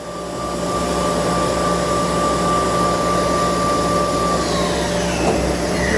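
The spindle of a 40-horsepower Kitamura HX1000 machining center with a Fanuc 16 control runs at around 4,000 RPM, rising into a smooth, steady whirring hum with a faint tonal whine.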